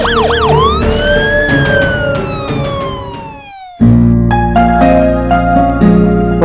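A wailing ambulance siren sweeps up and down loudly, breaks off briefly, then returns with repeated rising and falling tones close by, in a dramatic emergency scene.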